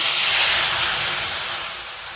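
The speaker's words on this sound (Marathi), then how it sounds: "आपण आता याच कढईमध्ये आपण हे दूध घालायचं" Milk poured into a hot kadai after roasting vermicelli, a loud continuous hissing rush that slowly fades, no talk.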